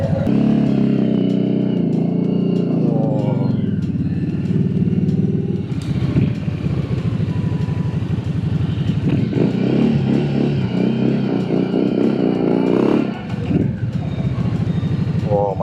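A Victoria Charmex cruiser motorcycle engine runs loud and close, its low rumble swelling in repeated revs and then settling back to idle, with people talking over it throughout.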